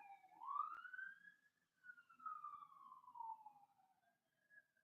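Many emergency vehicle sirens wail far off at once, heading elsewhere rather than passing by, their faint sweeping tones rising and falling together over a quiet background.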